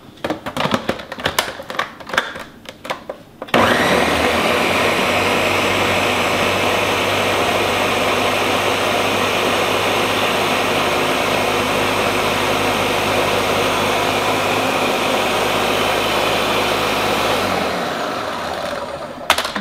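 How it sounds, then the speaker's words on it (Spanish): A blender whirs at high speed through strawberries, yogurt and aloe vera cream, a loud, steady motor roar that holds for about fourteen seconds after some clattering handling, then winds down at the end. "Y vamos a licuar todo esto"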